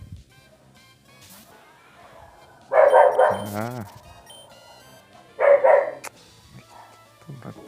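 A dog-like Pokémon cry from Pokémon Emerald, heard as two short, loud electronic yelps a few seconds apart over quiet game music, with a brief human exclamation in between.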